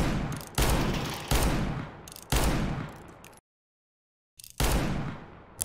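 Revolver gunshots in the video game CS:GO ring out as a series of loud, sharp blasts with decaying tails. Several come in quick succession, then a brief silence, then more.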